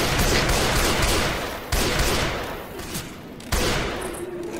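Dense, loud, continuous gunfire rattles in Left 4 Dead 2, broken by a few sharp louder shots.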